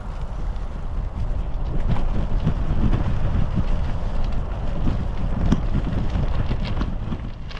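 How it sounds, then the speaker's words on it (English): A bicycle rolls over crackly gravel on a dry countryside bridleway, a steady close rumble of tyres on loose stones with wind buffeting throughout and no talk. "We're riding now on some crackly gravel"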